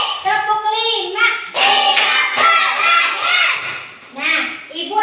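Children in an Indonesian classroom clap their hands together on a teacher's count, a short burst of claps mixed with kids' voices and chatter, close and fairly loud.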